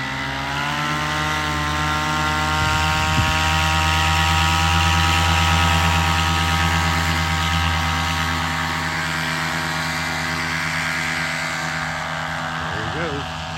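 Paramotor engine held at full power during a ground launch, a loud steady drone with dense harmonics that swells slightly and stays constant for the whole stretch, with faint voices beneath.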